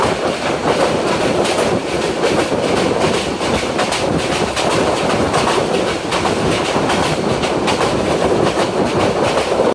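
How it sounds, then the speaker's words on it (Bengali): A Sagarika commuter train on Bangladesh railway, hauled by a 29 series locomotive with vacuum coaches, rushes past at speed, a loud unbroken roar of rumbling wheels and rail clatter very close. "সামনে থেকে একটি 29 সিরিজ এবং ভ্যাকুয়াম কোচ নিয়ে একটি ট্রেন আসছে"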